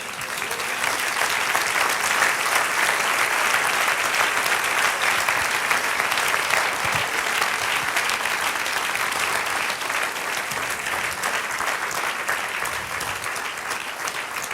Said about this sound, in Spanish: Sí, dale aplauso.